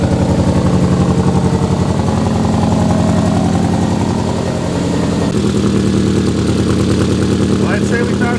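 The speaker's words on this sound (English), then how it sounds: "Well, I'd say we found a big exhaust leak." An engine running steadily with a big exhaust leak from a left-out plug, on a Boostaholics GM6 build being restored, giving a loud, close, rough puttering drone that shifts slightly partway through while a voice talks over it.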